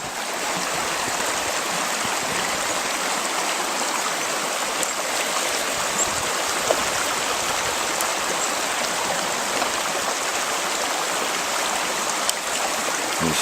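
A mountain stream flows in a steady, loud broadband rush of water around a gold-prospecting sluice trap, continuous and close with no talking.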